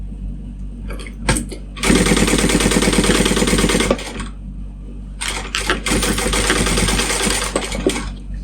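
Sewing machine basting a lining onto a fabric pouch at an eighth-inch seam, two loud rapid bursts of stitching, each lasting about two seconds, separated by short pauses and a few slow single stitches.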